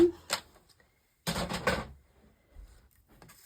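Card stock is cut to 2 1/4 inches on a paper trimmer, with a short blade clack, a pause, then a longer sliding cut and a few lighter clicks, close and alone.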